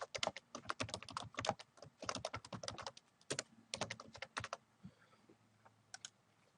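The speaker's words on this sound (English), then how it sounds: "If I type an address in" An address is being typed on a computer keyboard: quick bursts of crisp, close key clicks in irregular runs with brief pauses, ending in a few scattered taps, with no voice.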